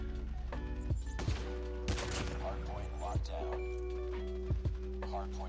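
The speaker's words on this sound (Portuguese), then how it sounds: "eu posso dar vários tiros em sequência" Rapid sniper rifle shots fired in quick succession in Call of Duty Mobile, several sharp cracks spaced about a second apart over steady game music and effects.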